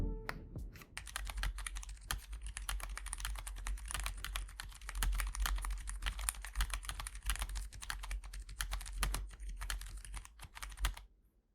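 Continuous rapid typing on a silent tactile mechanical keyboard built with Haimu Whisper silent tactile switches, with muted, dampened keystrokes, close and fairly quiet, with no voices.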